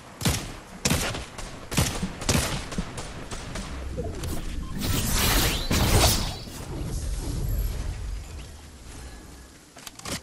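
Gunfire in the video game Fortnite, sharp rapid shots cracking in quick bursts with mechanical clatter, then a heavier sustained barrage and scattered shots trailing off.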